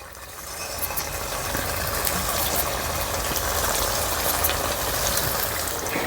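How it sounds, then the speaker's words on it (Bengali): Semolina pitha frying in hot oil, a steady, dense sizzle that holds evenly throughout without pauses or voices. "বাকি পিঠেগুলো একইভাবে ভেজে নেব"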